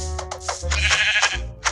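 A Minecraft sheep bleats loudly and close, a few wavering bleats in quick succession with a thin, slightly synthetic quality.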